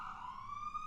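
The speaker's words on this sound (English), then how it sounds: "That's an ambulance." An ambulance siren wails steadily, its tone holding and slowly drifting, loud and continuous through the moment with no speech over it.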